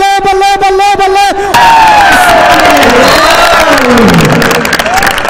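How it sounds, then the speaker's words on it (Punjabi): Kabaddi match crowd breaking into loud cheering and applause that follows a singing commentator, with shouts and whoops from a large outdoor audience. "ਇੱਕ ਵਾਰੀ ਤਾੜੀ ਮਾਰੋ ਜ਼ੋਰਦਾਰ"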